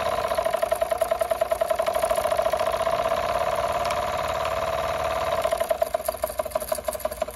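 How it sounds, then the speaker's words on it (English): A small steam engine drives a generator under electrical load, chugging in a steady, rapid rhythm with a sustained whine over it, close and continuous, the beat loosening slightly near the end. "So we definitely know this engine's powerful enough to make some electricity"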